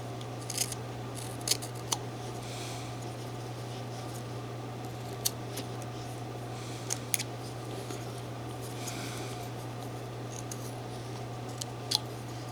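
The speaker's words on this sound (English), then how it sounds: "Cut a little bit off underneath there. Just cleaning that up." A carving knife whittles wood for a running fox figure, giving sparse, sharp little clicks and shaving snaps at close range over a steady low hum.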